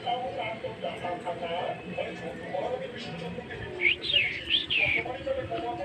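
A pet myna bird gives a quick run of bright, high chirps and calls near the end, heard close but fairly quiet, with people talking softly throughout during rain.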